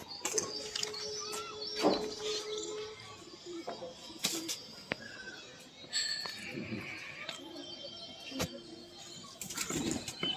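Two Gola pigeons being handled in Kanpur beat their wings in short, scattered bursts, mixed with faint chirps and light clinks over a busy outdoor background.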